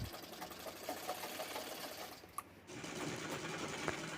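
An electric sewing machine runs steadily, stitching the side seams of a half princess-cut blouse, with a close mechanical whir that pauses briefly and then resumes.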